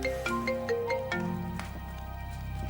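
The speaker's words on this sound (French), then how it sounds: "C'est un téléphone qui sonne." A phone rings in a French-dubbed drama, a soft electronic melody of short tonal notes repeating at a moderate pace, faint and unaccompanied by talk.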